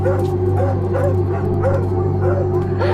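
Several dogs bark repeatedly in short, yelping bursts, some sounding whiny and strange, spread evenly over a few seconds against a steady low electrical hum.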